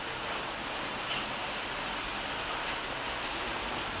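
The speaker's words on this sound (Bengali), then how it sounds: "এখানে প্রচণ্ড পরিমাণে বৃষ্টি হচ্ছে, অনেকক্ষণ ধরে খুব বৃষ্টি হচ্ছে।" Heavy, prolonged rain falls in a steady, dense roar of drops, close and unbroken for the whole stretch, with no talking over it.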